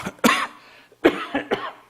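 Three short, sharp coughs close to the microphone: one, then a pause, then two more in quick succession.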